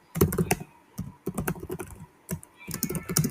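Fast, close typing on a computer keyboard in irregular bursts of clicks with short pauses between, no voices.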